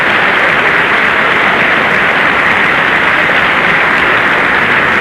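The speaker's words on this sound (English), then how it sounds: "they are contributing mightily to the applause." Sustained, dense applause from local enthusiasts packed into an armory on an election night, steady and loud throughout with no break.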